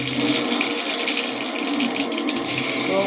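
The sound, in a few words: mustard seeds spluttering in hot oil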